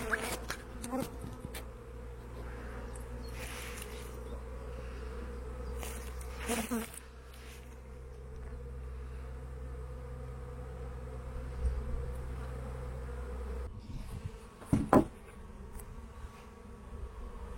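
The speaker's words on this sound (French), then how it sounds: "C'est une fille de ma première ruche. Pareil, plein de faux bourdons" Honeybees and drones buzzing at a beehive, a continuous close droning hum with individual bees passing near, and occasional soft sounds of handling.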